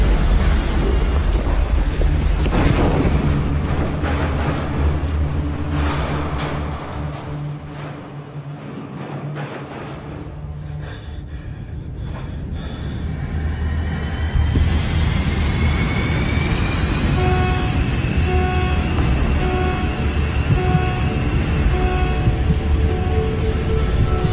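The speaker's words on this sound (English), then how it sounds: "The well is blowing out." Dramatized roar of the Deepwater Horizon oil well blowout: a loud, deep rumbling rush that briefly dips, then swells back into a sustained roar with rising tonal whines.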